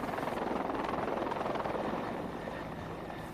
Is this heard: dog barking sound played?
no